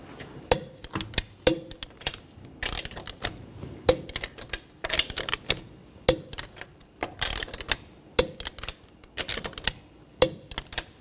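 Torque wrench clicking and clacking on lug nuts as a 2013-2019 Ford Escape rear wheel is tightened, quick irregular bursts of sharp metallic clicks with short pauses between nuts, close up and without talk.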